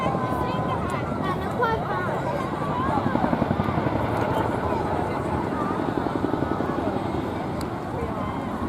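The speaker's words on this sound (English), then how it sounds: "Everyone along the beachfront's getting a little taste of that delicious blade flap sound as the aircraft moves down." A display helicopter descends over a beachfront, its rotor blades thudding in a loud, steady pulsing flap beneath continuous engine whine, with a narrator talking over it throughout.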